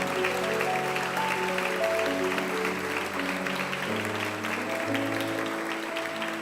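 A church congregation claps in praise during a Portuguese-language service, the steady, crowded clapping running throughout under sustained keyboard or organ chords.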